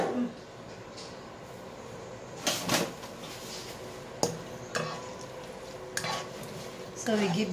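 Mala xiang guo ingredients stirred in a pan, with soft scraping and clatter of utensil against metal, a few sharper knocks and clinks rising over a low sizzle, moderately close.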